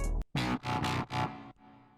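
Serum synth bass preset called BS Squats, heavy with effects and reverb, in a moombahton EDM production, playing a short rhythmic run of four punchy buzzing hits followed by a softer tail, quiet overall.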